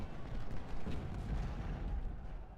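Cannon artillery booms in an Ultimate General: Civil War battle, dense low rumbling reports rolling almost continuously at moderate loudness with no voices over them.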